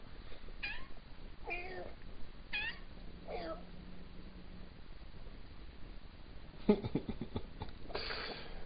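A cat meows four times, close by and fairly soft, over a low steady hiss, followed by some rustling and faint thumps.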